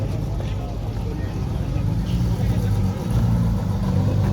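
Porsche flat-six engines warm up and rev at a Lohéac car meet, a loud, close, steady low rumble that swells in bursts, with voices talking over it.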